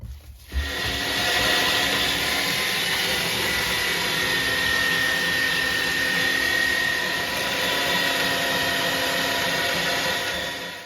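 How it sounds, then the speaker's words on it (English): A meat mincer grinds rabbit hindquarters and belly pork on a second pass, giving a loud, steady motor drone that starts abruptly and runs without a break for about ten seconds. "then we'll run it through the mincer again"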